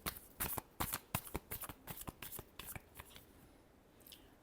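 A deck of tarot cards is shuffled up close: a quick series of crisp riffling bursts that taper off toward the end, with no talk.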